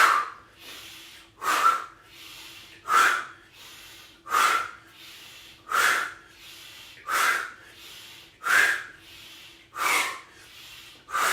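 Deep breaths during a breathing exercise, about nine rhythmic airy inhales and exhales, each swelling and fading at an even pace, close up with no talk.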